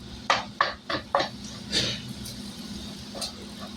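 Hamburger meat being chopped up in a pan gives a run of four sharp metallic scrapes and taps in quick succession, then a few softer scrapes over a low steady background hum.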